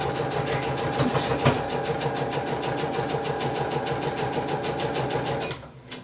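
A sewing machine stitching fabric runs with a fast, steady mechanical clatter close by, loud and even throughout before abruptly cutting off near the end.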